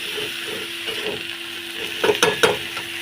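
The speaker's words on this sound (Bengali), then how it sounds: "সবটা একসাথে দিয়ে দেবো দিয়ে এটাকে নাড়াবো মিশিয়ে নেবো ভালো করে" Spices being stirred into banana-flower curry in a pan, soft sizzling under a few scraping stirs, with a brief cluster of louder spoon-against-pan knocks near the end.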